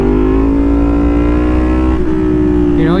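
Yamaha FZ/MT series motorcycle engine held at a steady high drone, nearby and loud, then a quick throttle rise near the end, with no talking.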